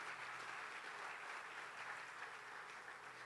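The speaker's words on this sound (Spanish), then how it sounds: "Dale un aplauso fuerte a Dios." Church congregation clapping during a sermon, a soft, steady, distant patter of many hands with a faint low hum beneath, even and unbroken for a few seconds.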